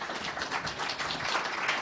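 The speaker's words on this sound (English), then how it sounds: "Give him a big round of applause." An audience at the Black Blockchain Summit 2019 applauds a speaker, founder of Bitcoin University, with steady, moderately loud clapping that fills the whole moment.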